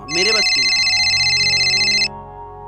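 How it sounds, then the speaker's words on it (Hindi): An incoming-call phone ringtone plays loud and steady for about two seconds, a sustained bright electronic tone, with a voice speaking over its start. "ले फोन आ गया।"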